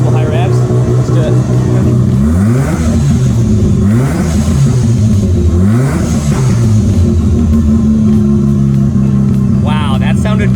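A rebuilt Mazda RX7 rotary engine revs repeatedly to high RPM, loud and close, the pitch sweeping up and falling back in several climbs before settling into a rough, smoky idle.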